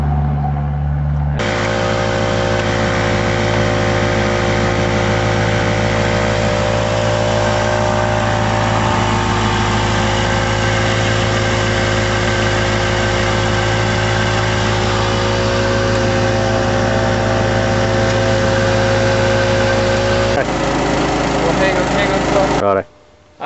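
A car engine idling steadily during an engine flush as part of routine maintenance, a constant close hum with faint mechanical whine, running unbroken for over twenty seconds before cutting off at the end.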